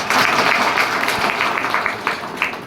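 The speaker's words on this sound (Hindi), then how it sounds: "एक बार जोरदार ताली हो जाए।" Loud, dense applause from a seminar audience fills the room steadily, with faint voices mixed in, then eases slightly toward the end.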